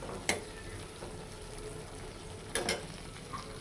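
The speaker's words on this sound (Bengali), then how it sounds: "মাছগুলো দিয়ে ভালোভাবে কষিয়ে নেব।" Singi fish sautéed in spice masala makes a soft, steady frying sizzle, broken twice by brief clattering stirs of a utensil in the pan, close and fairly quiet with no talk.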